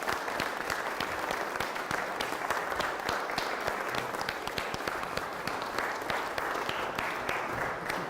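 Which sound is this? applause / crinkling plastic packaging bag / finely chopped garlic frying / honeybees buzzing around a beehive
applause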